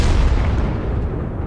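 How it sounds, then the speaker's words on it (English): A deep boom from an explosion in the tank battle game World of Tanks, loud at the start and then rumbling away over about a second and a half with no voices. "Yeah, I like explosions."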